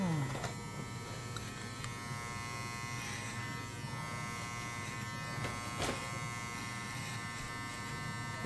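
Electric hair clipper buzzes steadily and close while cutting a mannequin's hair clipper-over-comb, a constant hum with faint scraping, briefly interrupted.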